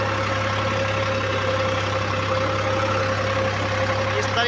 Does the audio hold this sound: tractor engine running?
yes